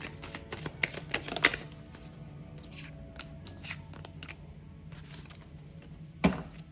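Tarot cards being pulled and slid from a deck: soft, quiet papery shuffles and snaps clustered early, then faint rustling, with one sharper card tap near the end, close and alone.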